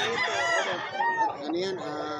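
A young rooster (stag) at a pet market in Bocaue, Bulacan crows loudly and close, a single drawn-out call with a rising, wavering tone and throaty clucks.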